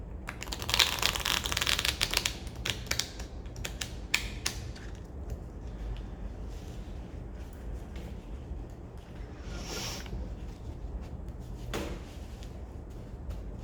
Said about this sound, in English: a good shuffle of these cards